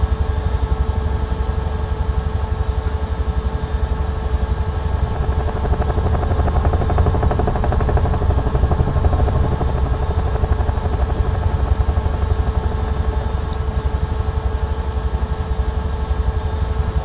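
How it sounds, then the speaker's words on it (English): A helicopter flies in Microsoft Flight Simulator 2024, its rotor and engine giving a loud, steady droning thrum with a constant whine that carries unbroken throughout, with no voices over it. "Let's use the freedom afforded a helicopter."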